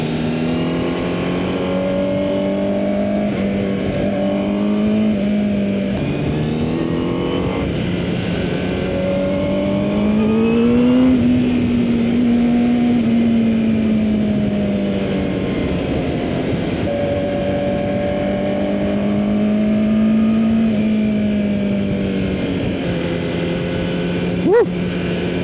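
A Honda CBR1000RR-R Fireblade superbike screams around a race track, its loud steady engine note rising and falling through gear changes over about twenty-five seconds.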